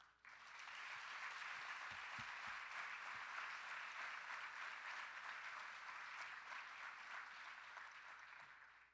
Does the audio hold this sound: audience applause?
yes